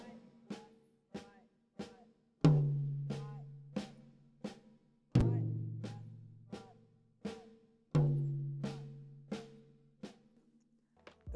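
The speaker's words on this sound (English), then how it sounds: "The paradiddle drum fill goes like this." Paradiddle drum fill on a kit with each accented first note moved to a tom: rapid, even snare strokes punctuated by deeper, louder tom hits at regular intervals, played close and dry, with no talking.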